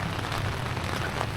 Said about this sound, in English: can you imagine if we continue to have like heavy rain like this